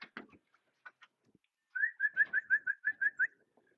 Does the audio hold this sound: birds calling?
yes